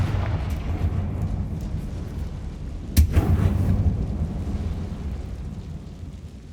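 A Confringo blasting spell goes off in Hogwarts Legacy inside a closed-down mine that looks like a tomb: one sharp explosive burst midway, then a rumbling tail over steady low, dark ambience.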